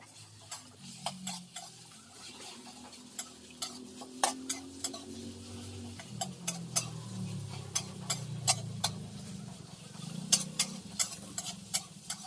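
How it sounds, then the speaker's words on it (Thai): Rapid metal clanks of a spatula against a wok over a steady sizzle, repeated in quick irregular bursts throughout, close and fairly loud. "ต้องคาะกระทะให้ดังใช่ไหม ยิ่งดังยิ่งอร่อย"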